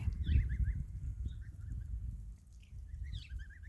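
Young geese in their adolescent voice-change stage give a series of squeaky, breaking calls in short bursts, some rising and wavering, over a low rumble of outdoor wind noise.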